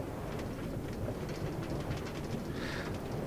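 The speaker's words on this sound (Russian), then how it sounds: "Отличное путешествие на вагонетке, едущей против часовой стрелки к ядерному реактору" Minecart rolling along rails in Minecraft, a steady dense rumbling clatter that runs continuously throughout, with a brief brighter hiss near the end.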